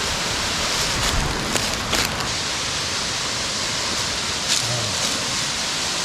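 A waterfall in Linville Gorge runs high after a day of rain, a dense, steady roar of rushing water that fills the whole clip with no voices.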